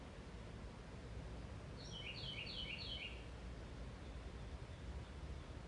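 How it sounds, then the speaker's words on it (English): Pet birds chirp indoors, giving a short burst of four or five quick, high tweets in a row, faint against a steady background hiss. "Do you hear my birds?"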